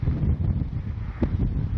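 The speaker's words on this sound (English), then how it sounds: "it is so windy right now that it's kind of hard to" Strong gusty wind buffets the microphone during an RC flight of an FMS Ranger 1220 V2 plane, a steady low roar that swells and dips with no talking.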